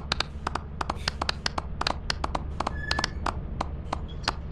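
Rapid, sharp claps crack repeatedly in a quick uneven rhythm in the video game Lethal Company, standing out over a low steady background hum.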